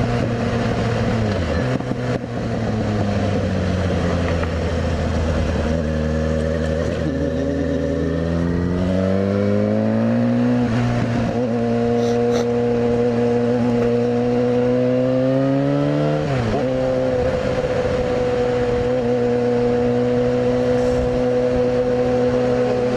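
Yamaha FZ6R motorcycle engine humming while riding in commuter traffic, holding around 4,000 RPM with gentle rises and dips in pitch, loud and close with wind noise and no talking.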